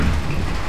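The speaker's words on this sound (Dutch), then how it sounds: "kijk dan, het regent echt heel hard" Heavy rain falls in a steady, dense hiss, loud and continuous over a brief moment with no voices.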